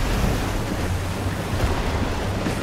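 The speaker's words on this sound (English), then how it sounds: "I just got fucking annihilated by water" A water attack in Monster Hunter World: Iceborne slams into the player as a loud, continuous rushing wash of water, like heavy surf crashing and roaring without a break.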